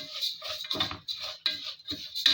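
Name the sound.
stirring vermicelli pasta in melted ghee in a pot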